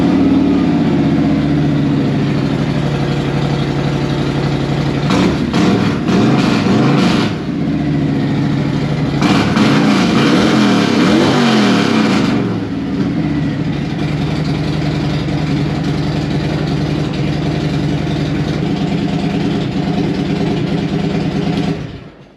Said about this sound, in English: Crank it up, make sure it still runs.